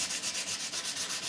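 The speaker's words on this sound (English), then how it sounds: "once I've got it to the thickness I want, I will go to a finer piece of sandpaper" Sandpaper rubs back and forth on a bone guitar nut in quick, even strokes, a soft close scratchy rasp repeating about five times a second with no voices.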